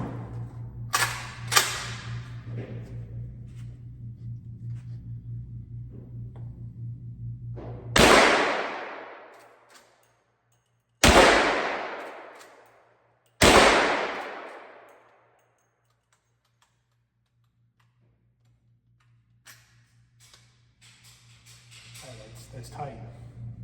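A Smith & Wesson 1854 Stealth Hunter rifle fires three loud, sharp shots a few seconds apart, each ringing off in a long, fading echo. Earlier bangs and voices come before the shots.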